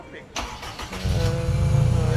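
A car engine cranks briefly and then catches, settling into a steady, loud idle rumble that continues to the end, with people talking nearby.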